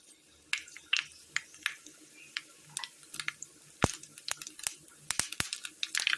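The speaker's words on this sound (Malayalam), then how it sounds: "ചൂടായ എണ്ണയിലേക്ക് കടുകിട്ട് കൊടുക്കാം." Mustard seeds splutter in hot oil in a pan for a Kerala curry, a dense run of sharp little pops and crackles, close and fairly quiet, with a few louder snaps toward the end.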